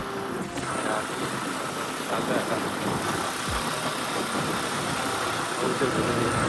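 A vehicle engine idles steadily near a crossroads, a continuous mid-pitched rumble with faint vibration that holds level for the whole stretch, with some faint background noise.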